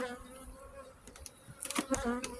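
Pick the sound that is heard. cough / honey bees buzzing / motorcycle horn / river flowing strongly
honey bees buzzing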